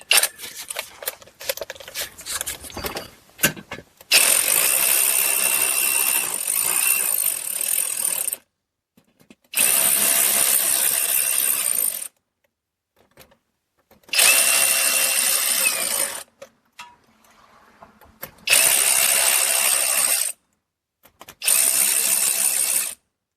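Power tool or ratchet snugging plastic-mounted fasteners on the active grille shutter of a Buick LaCrosse or Chevy Malibu, heard as five loud bursts of a few seconds each, separated by short pauses, close up with no talking.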